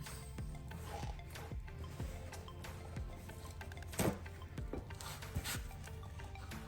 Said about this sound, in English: I'm mainly just wiping any debris off. I get stuff right there. A little bit of metal shaving right there.